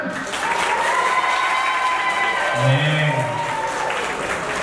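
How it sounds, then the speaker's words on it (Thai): Audience applause greets the first group of actors at a Thai drama cast meet-and-greet, a steady dense wash of clapping throughout with some voices and a brief low murmur partway through. "ขอเสียงปรบมือด้วยครับ"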